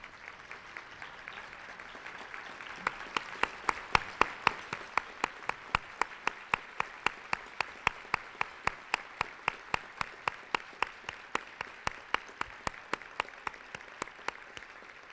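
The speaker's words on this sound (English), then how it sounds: "would the rest of the room please stand up and give her a round of applause?" Applause from a standing audience in a luncheon room, starting as scattered claps and settling into a steady rhythm of distinct handclaps for about twelve seconds, moderately loud and close, with no voices over it.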